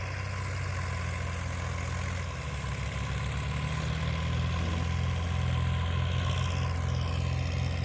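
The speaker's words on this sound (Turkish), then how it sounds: "İşler erken bitsin diye iki traktör çalışıyor." Two tractors run steadily in a farm field during spring planting, a low continuous engine drone close by with a slight rise in pitch partway through, no talking.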